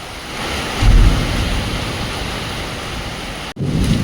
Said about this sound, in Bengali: কি বড় বড় বৃষ্টির ফোঁটা পড়ছে।